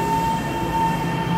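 A ten-car silver-green Taiwan EMU900 commuter train on the mountain line passes close by, a loud steady rumble of wheels on rail with a sustained squealing tone, no voices.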